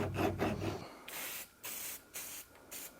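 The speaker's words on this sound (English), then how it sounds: "round off the nut on the bottom of the leaf spring with a file" A metal file rounds off a nut on a leaf spring, rasping in short repeated strokes, a scratchy rhythmic scraping heard up close, with a brief pause between passes.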